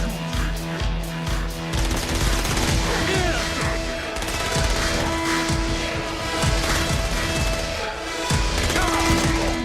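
Gunfire rattles through a battle in Saints Row: Gat out of Hell, with rapid machine-gun-like bursts and scattered shots repeating loudly and continuously amid heavy combat noise.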